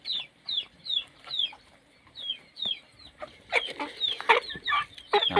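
Backyard chickens raised at home cluck in short repeated bursts, several calls overlapping at close range, growing busier and louder toward the end.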